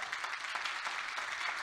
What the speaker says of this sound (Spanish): ¿Le puedes dar un aplauso a Él?